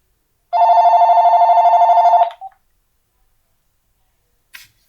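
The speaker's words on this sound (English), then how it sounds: "That's the phone." A telephone rings once: a loud, close electronic trill with a rapid pulsing warble that lasts about two seconds, cuts off with a short tail, then a faint click follows in quiet.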